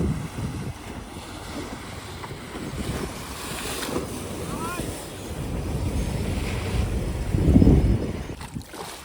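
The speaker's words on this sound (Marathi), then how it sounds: "आणि या साईडून आली फिशिंगची बोट" Fishing boat on the open sea in stormy weather, heard as a steady rush of wind buffeting the microphone and waves washing around it, with faint voices in the mix.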